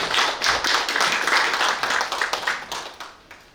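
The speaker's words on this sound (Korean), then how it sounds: "다시 한번 큰 박수 부탁드립니다." Audience applause at an academic lecture event in Gimhae, a dense stretch of hand clapping that stays steady and fairly loud before tapering off near the end.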